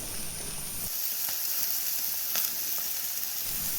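Small pieces of pumpkin pith sauté in a pan, giving a steady close hiss and sizzle with a few faint scrapes, no talk.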